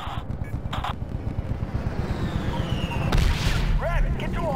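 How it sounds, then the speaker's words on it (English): Heavy cannon fire booms in Medal of Honor over a constant rumbling aircraft engine drone, with a sharp blast partway through and voices faintly behind. "Mark, firing cannon."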